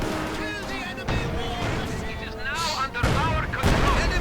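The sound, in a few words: incendiary artillery barrage in a video game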